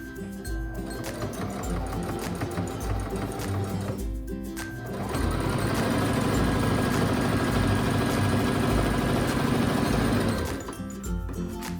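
A home sewing machine runs in fast, steady bursts while stitching a rolled hem on the front edge of a dress. A brief pause separates two runs of rapid, even mechanical whirring and needle chatter, close and fairly loud, with no talking.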